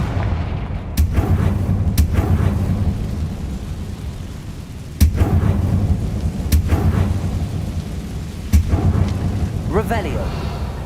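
Fire spell blasts from Hogwarts Legacy crack out several times as sharp, booming bursts that land at uneven intervals over a steady, low ambient rumble.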